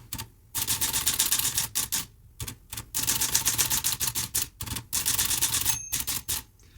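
An Olivetti Lettera 22 manual typewriter clatters in loud, close bursts of rapid keystrokes separated by short pauses, and a crisp bell rings near the end of a line.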